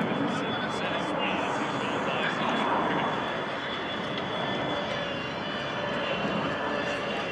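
An AV-8B Harrier jet flies past at a military air show open house, its engine a steady, fairly distant roar that holds throughout, with a commentator talking over it.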